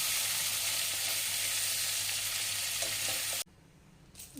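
Loud, steady sizzling of prawns frying in hot oil, continuous for several seconds, then abruptly dropping to quiet.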